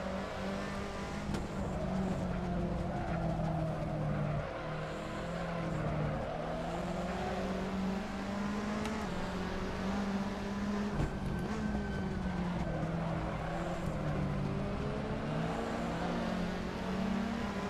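Racing minis, including a Fiat touring car, roar around the Kemora circuit in a racing video game, a dense steady engine drone that rises and falls with shifting revs and occasional tire noise, loud and continuous with no talk.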